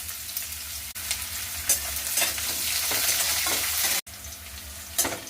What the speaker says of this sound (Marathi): आता हे कट केलेला कद्दू घालून घेऊ